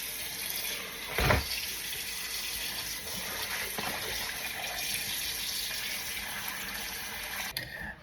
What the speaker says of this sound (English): I already washed my oxtail really nice and clean with vinegar and lemon